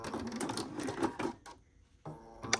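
A sewing machine backstitches a high-tension seam, running in quick bursts of mechanical stitching, pausing briefly to reverse, then starting up again, close and moderately loud.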